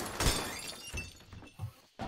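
A window shattering from gunfire in a video game: a sharp glass break near the start, then scattered quieter thunks and clinks, all faint.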